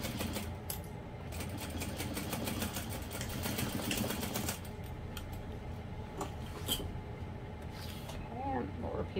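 A sewing machine stitches across the opening of a small parachute knapsack made of vinyl and waterproof canvas, a rapid, even mechanical rattle that runs steadily and then pauses, with soft speech over it.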